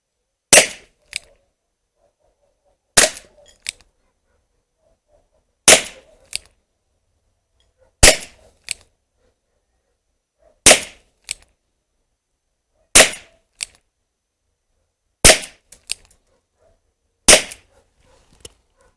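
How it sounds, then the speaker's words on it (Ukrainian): Eight sharp small-calibre gunshots from a Weihrauch HW4 6-inch revolver fired at an Olympic target crack one after another at a steady pace of roughly two to three seconds apart, loud and close, with faint clicks between. "погнали 8 пострілів по олімпійській мішені"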